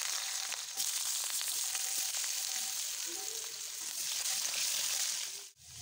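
Potato pieces fry in hot oil for a cauliflower and rohu fish curry, with a continuous close sizzle and crackle and occasional soft stirring sounds before a brief dip at the end.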